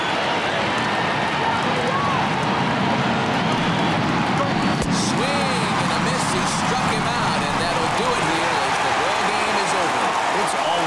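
A stadium crowd of over 39,000 roars and cheers in the baseball video game MLB The Show 20, a steady loud wash of noise from start to finish.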